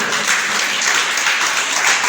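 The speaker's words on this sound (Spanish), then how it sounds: "Dale un aplauso al Señor, aleluya." A church congregation applauds together, a brisk, dense wash of clapping that stays steady and fairly loud for the whole short stretch, with no voice over it.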